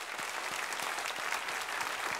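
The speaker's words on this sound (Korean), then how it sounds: "박수로 축하합시다." A church congregation applauds during a Sunday worship service, a steady, moderately faint patter of many hands clapping throughout the short stretch.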